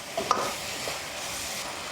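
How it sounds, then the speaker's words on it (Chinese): Pig head meat stir-fried in a wok over high heat with seasoning, giving a loud continuous sizzle and a sharp scrape of the spatula early on, then steady frying hiss. "继续用大火翻炒均匀"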